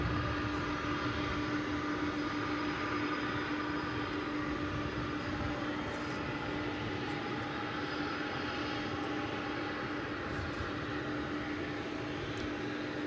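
A Qantas airliner takes off at DFW Airport at night, producing a steady, distant, broadband engine roar with a sustained tonal whine that holds evenly throughout.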